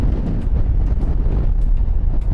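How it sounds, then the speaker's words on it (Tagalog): Strong wind buffets the microphone in a constant low roar, loud and close, with occasional gusty bursts and no voices, in Malico, San Nicolas, Pangasinan. "Lakas ang hangin."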